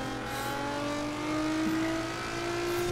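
A car engine in the racing game Forza Horizon 4, winter street event, drones steadily under load with rising engine tones, continuous and close, no voices.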